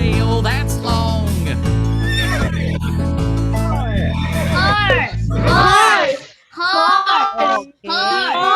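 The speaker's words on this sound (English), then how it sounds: "The horse makes that sound" A horse neighs and whinnies in a farmyard setting, loud and close, with a drawn-out call over music, followed by children's voices speaking nearby.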